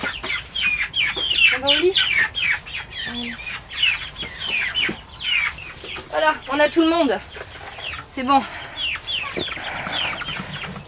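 Young hens in a greenhouse coop cluck and squawk in repeated bursts close by, with someone talking over them and some wing flapping.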